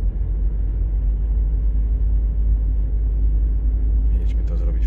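A car drives to a tyre change appointment, its interior filled with a steady low engine rumble and road noise; a voice speaks over the drone.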